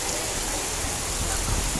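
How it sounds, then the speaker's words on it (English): Steady rain falls across a school grounds setting, a dense, even hiss with no gaps, moderately loud throughout a short moment and no voices over it. "It's fucking raining."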